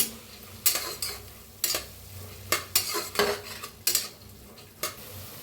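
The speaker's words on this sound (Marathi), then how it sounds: "मटकी जरा हलवून घेऊया" A spoon scrapes and clatters against a metal pan of moth beans in short repeated strokes, roughly one per second, close up, with a soft sizzle underneath and no voices.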